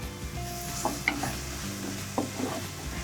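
Ginger garlic paste sizzles gently in a clay pot over a steady low frying hiss, with a few soft scraping stirs of a spoon against the pot.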